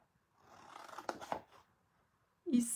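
Scissors cut a folded sheet of paper along its creases for a one-sheet gift box, a close, soft rasping snip lasting about a second, then a sharper cut after a short pause.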